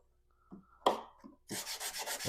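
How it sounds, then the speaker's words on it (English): Sanding on a wooden aircraft rib: a few short scrapes give way to a close, rhythmic rasping of repeated back-and-forth strokes near the end. "That's all the sanding I need to do."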